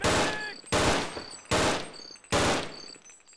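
Gunfire in the game They Hunger: four loud, close bursts spaced about a second apart, each a sharp broadband blast with a decaying tail.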